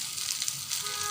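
Fish fried red in a pan of hot oil, a steady, dense sizzle that is loud and close for about a second with no voices.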